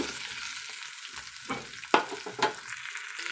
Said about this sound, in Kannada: ಹಾಗಾಗಿ ಇದನ್ನು ನಾನು ಫ್ರೈ ಮಾಡ್ಕೋತಾ ಇದ್ದೇನೆ